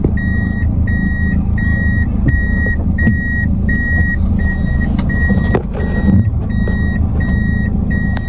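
A vehicle engine rumbles steadily and loudly nearby as it drives through, with a regular series of high reversing beeps repeating throughout.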